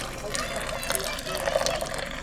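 Water is poured over ground coffee during home brewing in Indonesia, a soft, steady trickling splash lasting a couple of seconds beneath people talking.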